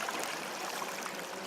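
A small mountain-fed creek flows steadily nearby, its broad rushing babble of water continuous and even with no voices over it.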